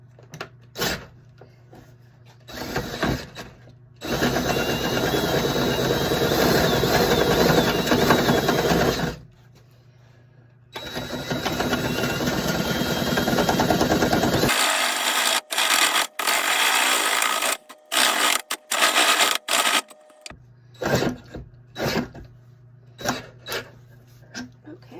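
A drill with a worn paddle bit boring into scrap wood for a birdhouse, loud grinding runs in two long bursts broken by pauses, then shorter stuttering spurts and knocks as the bit struggles.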